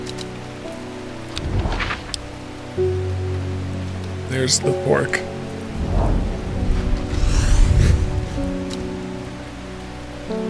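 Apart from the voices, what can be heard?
rain and thunder in video game Strange Horticulture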